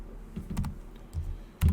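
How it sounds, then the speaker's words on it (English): Quick bursts of keystrokes on a computer keyboard during a 2022 manufacturing software demo, a few soft clicks spread out then a louder cluster at the end, fairly close and quiet with no talking. "I'll just type it in again."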